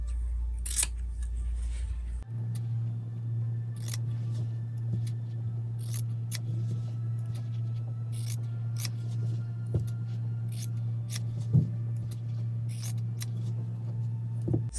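Scissors cut through fabric for a scrap placemat, giving faint, scattered snips and clicks close by over a steady low electrical hum, with no one speaking.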